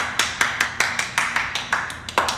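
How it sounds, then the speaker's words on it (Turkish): Sharp, evenly spaced hand claps from a single person, about a dozen crisp slaps in a steady rhythm, close and clear with no talking over them. "Gerçekten seni alkışlıyorum"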